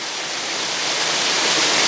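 A waterfall roars as a dense, steady wash of falling water, loud and close, with no voices.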